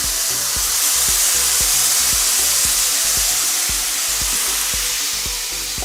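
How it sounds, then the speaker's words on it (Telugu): Gravy poured into a pan of pepper mushroom curry sizzles and hisses loudly and continuously, a close, steady frying sound with faint rhythmic clicks beneath. "ఇప్పుడు మనం ఈ గ్రేవీ వేస్తున్నామండి."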